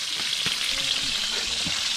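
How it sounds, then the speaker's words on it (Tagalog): Tulingan (bullet tuna) frying in a pan, a steady loud broadband sizzle and crackle with a few soft knocks from stirring, no voices over it. "Prito kami ng tulingan."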